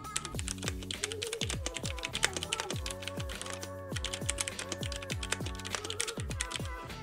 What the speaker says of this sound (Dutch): de MX Brown switches, die een zachte tactiele bump geven zonder de klik